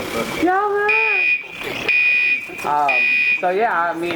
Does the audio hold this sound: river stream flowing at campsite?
no